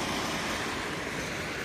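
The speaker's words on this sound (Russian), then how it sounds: "Дождь льет." Heavy rain pouring down outdoors during a December downpour near a station shelter, a steady dense wash of noise with no breaks, loud and close throughout.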